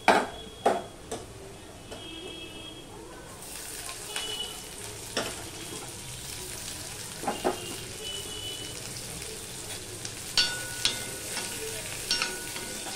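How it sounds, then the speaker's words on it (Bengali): Onions frying in a pan for chilli chicken give a steady close sizzle, broken by several sharp clatters and scrapes of stirring. "পেঁয়াজটা একটু আমি ভেজে নেব, পেঁয়াজের কাঁচা গন্ধটা কিছুটা চলে গেলে তারপরে আমি ক্যাপসিকাম দেব।"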